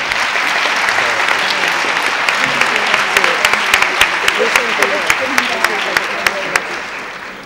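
An audience at a screening or award session breaks into sustained applause, a dense wash of clapping with a few sharp individual claps standing out, gradually tapering off at the end.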